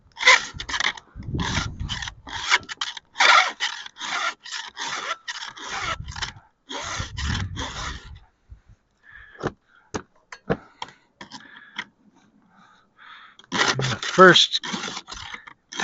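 A hand file rasps across a chainsaw chain's cutters in repeated short strokes, first in steady bursts and then in sparser scrapes, with someone talking throughout.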